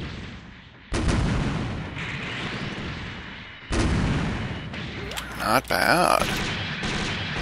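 Rifle fire from the Arios Gundam in SD Gundam Online, heard as loud bursts of booming shots that come in and then stop, with a busier stretch of bright electronic effects near the end and a brief spoken remark.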